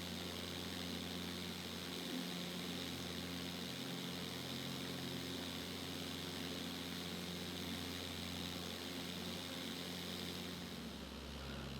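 A steady propeller engine drone from a Cessna 172 in a Prepar3D flight simulator during a landing at John Wayne-Orange County Airport, holding an even, constant hum throughout, with no talking.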